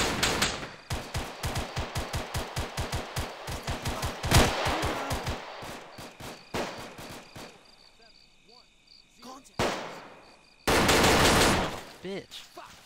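AI soldiers in the Arma 3 military game fire rapid bursts of automatic gunfire, with dense rattling volleys early, a lull with scattered shots, then sharp loud bursts toward the end.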